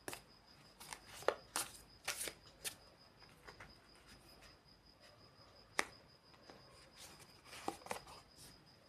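Tarot cards being shuffled and drawn for a reading, heard as soft, faint papery flicks and snaps scattered irregularly across a quiet room, with a few sharper card slaps standing out.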